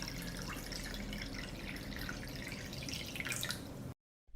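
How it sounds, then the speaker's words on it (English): Water runs and splashes into a deep pot lined with a cloth and holding a jar of tomatoes, a continuous close trickling and dripping that stops abruptly at the end, with no talking. "I pour water into the pot."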